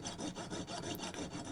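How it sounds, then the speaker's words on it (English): A saw cuts through a chunky piece of cast silver for a chess piece, making a steady rasping back-and-forth with regular strokes, close and alone. "So a chunky bit of silver to saw through."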